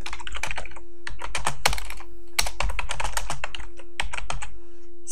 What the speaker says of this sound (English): so I basically type in my text